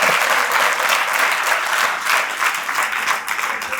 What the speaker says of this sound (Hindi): जोर से ताली बजा दीजिए।